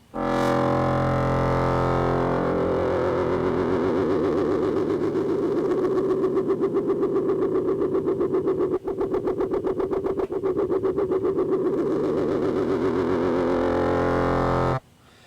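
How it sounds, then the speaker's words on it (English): A gritty, growling bass patch from the Reason synthesizer holds one sustained, roaring note. Its tone wobbles and warbles into a sci-fi texture as the modulation wheel rises, and it stops abruptly at the end. "now we have this gritty patch, and when we turn up the modulation wheel, it turns into this sci-fi type of patch"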